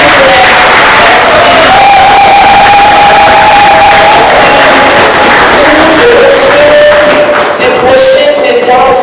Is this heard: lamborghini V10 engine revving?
no